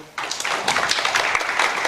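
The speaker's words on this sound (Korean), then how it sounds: "박수 한번 쳐주시죠" A seminar audience at an education policy discussion breaks into applause, a brisk burst of many hands clapping that starts suddenly after a quiet moment and continues evenly.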